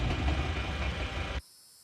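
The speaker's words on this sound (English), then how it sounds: "I'm going to go ahead and turn off the engine in the Bradley" Engine of an M3A2 Bradley Cavalry Fighting Vehicle in Steel Beasts Pro PE, a loud, steady low rumbling idle that cuts off abruptly, leaving near silence with faint high hiss.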